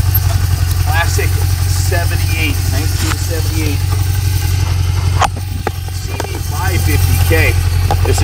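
A restored 1978 Honda CB550K Four motorcycle idling close by with a steady, even low rumble while someone talks over it.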